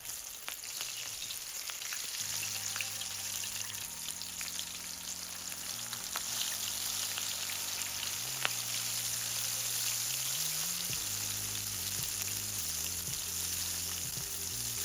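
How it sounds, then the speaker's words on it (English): Shrimp tempura coated in a gluten-free batter deep-fries in hot oil, giving a steady, dense crackling sizzle. It runs throughout at an even level with no voices, over a low background hum. "And we deep fry."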